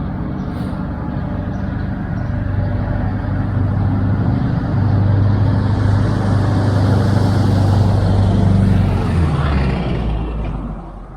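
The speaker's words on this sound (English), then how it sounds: "let some traffic pass" Road traffic passes along a roadway near a spot where a log is being hand hewn, a steady broadband engine and tyre rumble swelling as vehicles go by and fading at the end, with no one talking.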